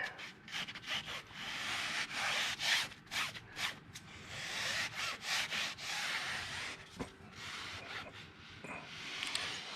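A wheel sponge rubs product onto a car tire in repeated short scrubbing strokes, close and fairly quiet, with brief pauses between bursts and no talking.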